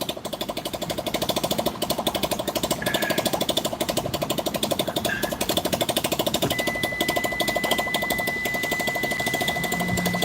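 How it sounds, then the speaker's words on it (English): A motorcycle engine idles very low nearby, a steady rapid thumping pulse with a faint tonal hum running throughout. "And that's a bike. He's got a really low idle."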